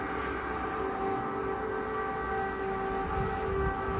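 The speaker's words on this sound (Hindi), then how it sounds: "रात में एक बार फिर खतरे की घंटी बजाते सायरनों की आवाज गूंजने लगी" Air raid sirens wail over Kyiv at night, a steady sustained tone echoing across the empty city with a low rumble beneath, continuous and fairly distant.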